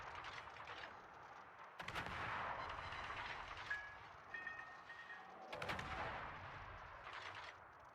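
Heavy naval guns fire shell salvos from the battleship Thunderer in a naval warfare game, heard as two booming bursts with rolling, rumbling tails, fairly faint overall and without voices.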